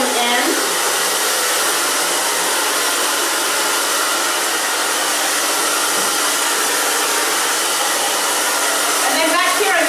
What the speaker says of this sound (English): back here I'm just going to dry, you know, just straight onto that